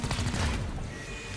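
Burst of rapid gunfire in XCOM: Chimera Squad as a pylon is shot, a dense rattling volley of shots fading out over about a second.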